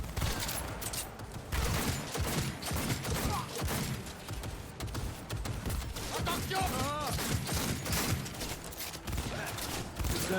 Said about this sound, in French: Le flingue de Silverhand, il a bien vieilli